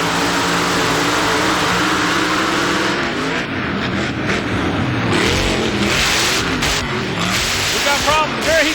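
A mud racing truck with a full-size Chevrolet body, its throttle hung open, roars loud and steady at an outdoor mud racing event, with announcer talk and crowd noise layered over it.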